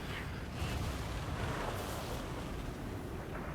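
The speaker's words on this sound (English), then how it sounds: "Skinks literally just exploding." Skinks blowing apart under explosive fire in a Total War: Warhammer 2 battle, a continuous roar of blasts and booms, faint and distant, with overlapping bursts and rumble.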